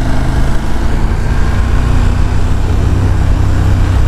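A loud, steady KTM 1290 Super Duke R motorcycle engine roar while riding, continuous and close, with rumbling low tones and rushing noise throughout.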